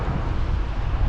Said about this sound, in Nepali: हावा एकदम चल्छ यहाँ